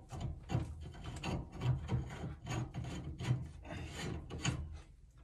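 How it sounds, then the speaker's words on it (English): A wrench tightens a steam radiator pipe coupler in an 1884 house renovation, giving a close, rhythmic run of rasping, scraping strokes about every half second at moderate volume. "Put the coupler on so when I tighten it up, I'm going this way with a wrench set against the wall."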